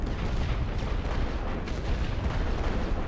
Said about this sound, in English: We've got light artillery firing at these guys right now